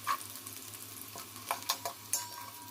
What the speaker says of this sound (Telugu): ఇలాగ కలుపుతూ ఫ్రై చేసుకోవాలండి. ఎందుకంటే స్టీల్ గిన్నె కదా, అడుగు పట్టకుండా మధ్య మధ్యలో కలుపుతూ ఉండాలి.